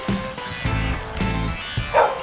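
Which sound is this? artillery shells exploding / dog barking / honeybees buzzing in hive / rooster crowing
dog barking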